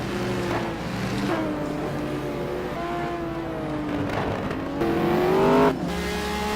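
McLaren F1 and Pagani Zonda GT1 race cars at the Nurburgring in a racing video game, engines droning loud and steady with rising gear-change whines and a brief louder surge near the end.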